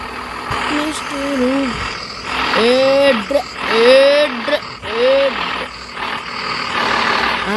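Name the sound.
lorry engine in video game Truck Masters India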